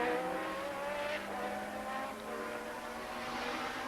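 A Formula 1 race car at Brands Hatch during the 1982 British Grand Prix, its engine sounding rough, roars steadily with a high droning whine and shifting pitch, loud and continuous with no talk.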